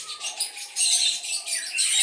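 Paired parrots sitting beside a light bulb keep up a steady stream of shrill chirps and chatter, close by, swelling louder partway through with no pauses.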